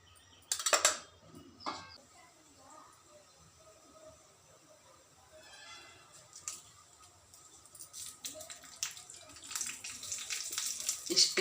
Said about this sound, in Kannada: ಈಗ ಇದಕ್ಕೆ ಜೀರಿಗೆ ಒಗ್ಗರಣೆ ಕೊಡ್ತಾ ಇದ್ದೀನಿ